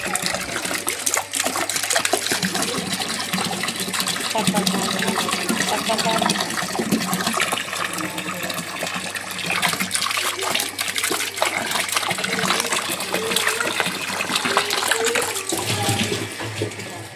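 Hot water pours into a can, a loud continuous gushing and splashing close by, rising as the can fills and tapering at the end.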